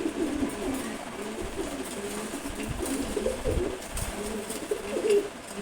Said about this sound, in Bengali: সবজি গোড়া নর কবুতর